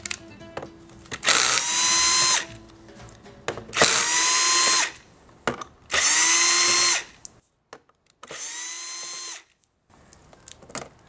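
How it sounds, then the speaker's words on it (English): Power screwdriver backing screws out of the rear cover of a Shuttle X50 touchscreen all-in-one PC, four loud whirring bursts of about a second each with short pauses between, close up and alone. "So now we are going to remove these four screws."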